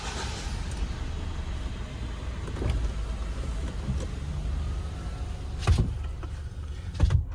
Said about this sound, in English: automatic windows all around